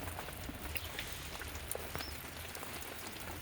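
Steady rain patters on a garden of potted cacti and succulents, a soft continuous hiss of drops with a few faint bird chirps in the background.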